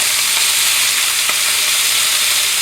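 Pork and vegetables with gochujang and sea salt in a hot stir fry hiss steadily as Shaoxing wine goes in, a dense, loud, continuous sizzle with a brief louder burst partway through.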